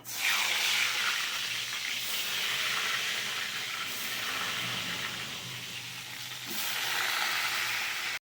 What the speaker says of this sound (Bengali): বেগুনটাকে আমি ভেজে নিচ্ছি সবার আগে